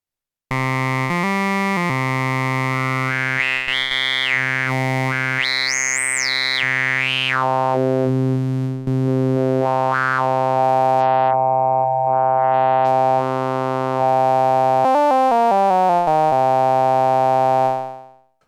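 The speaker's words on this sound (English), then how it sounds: "Now we have the granular formant oscillator" A buzzy Arturia MicroFreak/MiniFreak granular formant oscillator tone drones with shifting, vowel-like formant sweeps and gliding pitch bends, sustained and loud with no voices.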